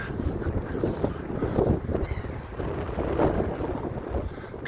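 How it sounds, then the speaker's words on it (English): Gusty wind buffets the microphone with low rumbling blasts that rise and fall, continuous and close, with faint outdoor noise beneath. "That's a bit less windy down here."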